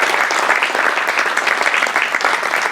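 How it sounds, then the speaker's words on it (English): Steady audience applause at a community event in Altadena, dense clapping holding at an even level throughout with no voices over it. "if we could give them a round of applause for everything they've done too"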